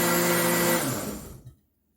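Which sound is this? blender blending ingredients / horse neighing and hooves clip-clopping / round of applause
blender blending ingredients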